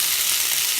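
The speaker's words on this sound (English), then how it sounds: "Oh, I love that sizzling sound." Cannellini beans sizzle in hot garlic and rosemary olive oil, a steady, close, dense hiss of frying that runs unbroken and fairly loud, with no voices.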